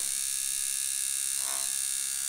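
A Pope Irons T3X tattoo machine fitted with a 15 curved magnum needle runs in a steady, even electric buzz, close and constant with no pauses.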